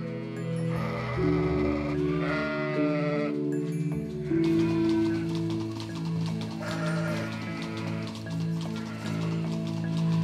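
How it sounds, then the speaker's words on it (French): A flock of dairy ewes bleats on a sheep farm on the Causse plateau where cheese is made, many overlapping calls near and far, steady and continuous with no talk over them. "s'installer sur le Causse pour élever des brebis et produire ses fromages"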